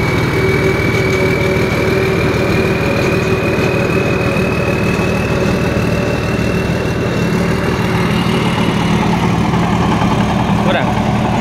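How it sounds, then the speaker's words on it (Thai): Rice harvester engine with a new turbo running continuously, a loud, steady, close diesel drone with a faint rising turbo whine, constant throughout. "ระบบใหม่ครับลองเทอร์โบใหม่ด้วยก่อนลงเกี่ยวข้าวนะครับ"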